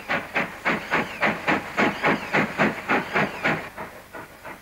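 A steam locomotive on the Wirral chuffs in a steady, rhythmic run of loud, hissing steam bursts, about fifteen beats, slowing slightly and fading toward the end.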